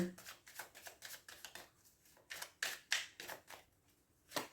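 Tarot cards being shuffled in a series of quick, papery riffles and soft slaps, close and fairly quiet, arriving in bursts with short pauses between them.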